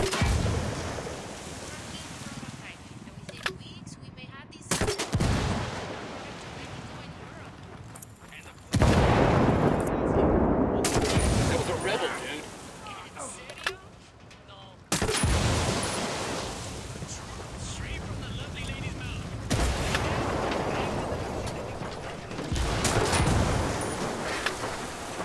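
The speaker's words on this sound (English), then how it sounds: "I'm shooting these fuckers." Gunfire in the tactical shooter Ghost Recon Wildlands during a firefight on El Sueño's convoy, with loud bursts of shots and blasts over a dense, roaring game soundscape that stays heavy throughout.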